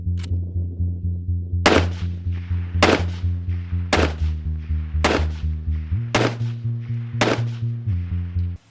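Seven loud shots from a Robinson Armament XCR-M .308 short-barreled rifle fitted with a muzzle brake, fired in a steady slow cadence of roughly one per second, each a sharp concussive blast over a constant low hum.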